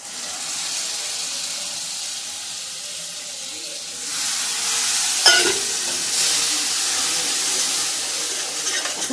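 Prepared masala for chole dropped into a hot pan, a soft steady hiss that jumps into a louder, brighter sizzle midway with a brief clatter, then keeps frying close by.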